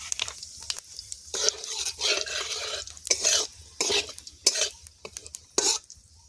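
Dry red chillies and whole cumin crackle in hot oil in an iron kadai, with irregular bursts of spluttering and scraping stirs against the pan spread across the clip.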